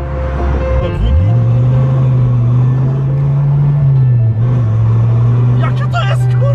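A first-generation Dodge Viper with an 8-litre engine rumbles loudly up close, its deep drone rising as it revs and then holding at a steady, throaty idle-to-cruise tone, with voices talking over it.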